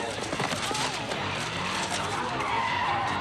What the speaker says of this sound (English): He's driving on the sidewalk, literally chasing someone down.